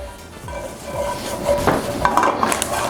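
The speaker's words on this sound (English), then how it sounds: "you're going to add in about half of your seasoning mix that you made earlier. And stir that around." A spoon scrapes and clinks around a pan as seasoning mix is stirred, with a soft sizzle underneath; close, repeated metallic scraping strokes that grow busier toward the end.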